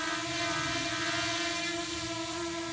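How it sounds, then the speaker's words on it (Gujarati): A hovering drone gives off a loud, constant buzzing whine with a steady pitch and a rushing noise beneath it, heard close and uninterrupted with no talking. "ક્યા હી આવાજ કર રહા હૈ, યે ડ્રોન હૈ કિ ભાઈ સાહેબ"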